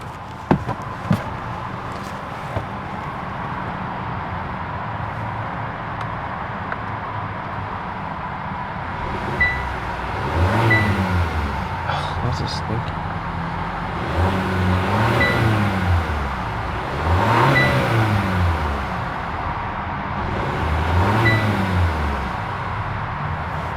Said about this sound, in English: all right, let's go and give it a couple of revs.